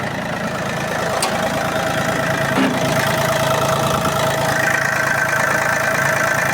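A small Iseki TU225 mini tractor engine idles steadily and evenly up close, a continuous mechanical drone with a faint rhythmic knock and no voices.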